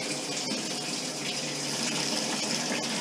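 Water gushes steadily into a new, empty fish tank, a continuous splashing rush heard close up, with no talk during the pour.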